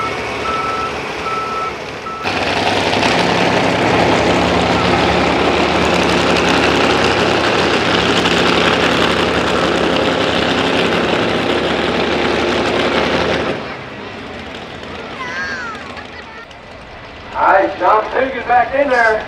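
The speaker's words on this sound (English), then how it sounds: "It's got a Hemi in it, but it's got a big old Ford Hemi, 648 cubic inches of Ford Hemi." A pulling truck powered by a 648 cubic inch Ford Hemi runs at a truck pull event, a loud, steady engine drone held for about eleven seconds under an announcer's voice, then dropping away as reversing beeps chirp in the distance.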